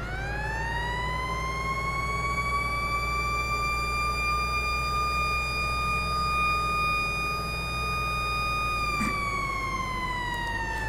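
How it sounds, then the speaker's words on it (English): A fire truck siren from a semi truck mod in Farming Simulator 19 wails steadily and loudly with a continuous rising tone, holding for several seconds before a brief break near the end, with no talk over it. "That's not a siren. Well, I mean, technically it is, but it's not."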